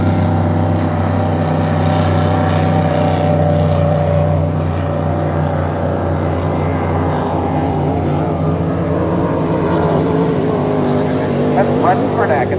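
A red National Mod class racing boat's engine roars past at the 2013 Western Divisionals, a loud, steady, throaty drone that shifts in pitch as it goes by, with a race announcer talking over it.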